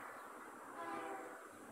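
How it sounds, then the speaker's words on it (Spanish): A GP22 locomotive leading a KCSM freight train sounds its horn on approach, a faint, distant sustained blast over a low rumble. "aquí viene con una GP22 CQM de líder. Debe ser la 2504 por su silbato."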